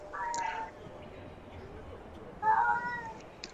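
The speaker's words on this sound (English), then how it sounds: "sometimes she likes to meow into the closet, and the closet is very echoey, and it like amplifies her meow" A cat meows into an echoey closet, two drawn-out reverberant meows a couple of seconds apart, faint against a quiet room background.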